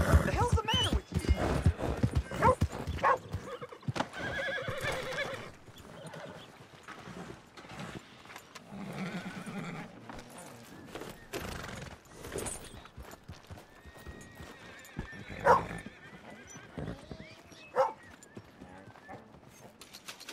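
Hooves clop steadily at first, then a horse whinnies a few times in Red Dead Redemption 2, with people speaking over and between the sounds.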